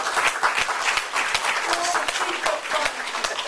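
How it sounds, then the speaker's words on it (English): At a community town hall, an audience gives a sergeant major a round of applause, with brisk, close, dense clapping and some distinct individual claps and faint voices mixed in. "Let's give him a round of applause."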